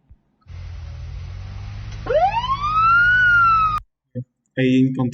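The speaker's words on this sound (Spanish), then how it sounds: "Eso es una sirena francesa." An electronic French two-tone siren built from a 555 timer circuit wails loudly, rising and holding its pitch for a couple of seconds over a low hum, then cuts off abruptly.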